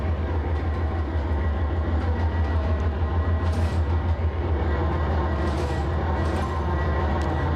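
Simulated train from Trainz 22 rolling on rails near Mojave, a steady loud low rumble with rhythmic clicking of wheels over joints running throughout, a couple of brief hissing bursts on top.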